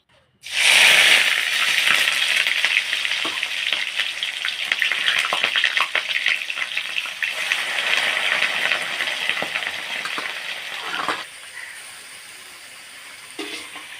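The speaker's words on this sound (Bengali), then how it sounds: "আলু তো ভাজা হয়ে গেছে এবার আগে থেকে সেদ্ধ করে রাখা এঁচড়টাও ভেজে নেব" Boiled young jackfruit frying in a pan right after potatoes, a loud continuous sizzle with scattered stirring clicks that settles into a quieter hiss near the end.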